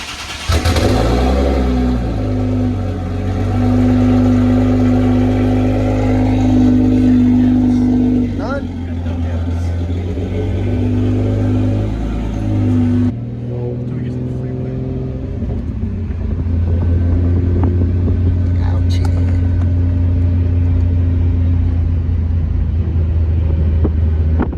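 A turbocharged G37 flex-fuel car engine pulling hard at full throttle, a loud droning roar heard from inside the cabin that climbs in pitch, breaks off at a shift, then builds again.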